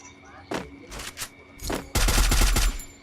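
Gunfire in the battle royale game Free Fire: a few separate shots early on, then a dense, loud burst of rapid automatic fire near the end.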